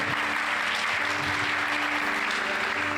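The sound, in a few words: applause in church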